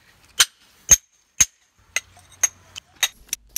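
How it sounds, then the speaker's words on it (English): Hammer blows on rock while mining Herkimer diamond quartz crystals: about nine sharp, ringing strikes, evenly spaced at first and then quicker and quieter toward the end, fairly close and with no talk. "It takes a lot of hammering to get this done."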